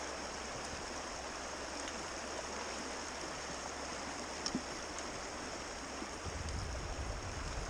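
Glacier meltwater in a Brooks Range stream rushes in a steady, broadband hiss, continuous and fairly close, with no voices.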